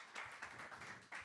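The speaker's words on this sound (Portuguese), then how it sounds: "a quem eu peço uma salva de palmas" Audience at a sports-training magazine launch gives a round of applause welcoming the magazine's director, steady, faint, distant-sounding clapping with no talk over it.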